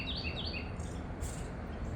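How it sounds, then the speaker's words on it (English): Birds chirp and tweet outdoors in a garden, a few repeated high calls in the first second over faint steady background noise, fairly distant. "Now, and the birds are just screaming at me."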